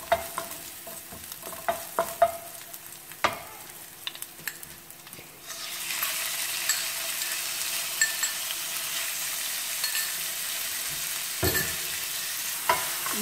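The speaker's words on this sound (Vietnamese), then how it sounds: "Các bạn làm cho cái phần hành tím này là thơm lên, xào." Shallots and filling are stir-fried in a pan, with scattered utensil scrapes and taps at first, then a loud, steady sizzle that rises suddenly and carries on under continued stirring.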